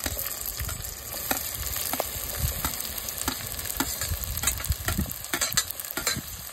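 Onions sauté in plenty of sesame oil for vanjaram dry fish sambal, a busy crackling fry with repeated scraping stirs close up and no speech.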